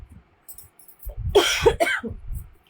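A short burst of coughing, two or three harsh coughs close to the microphone, with faint low murmuring before and after.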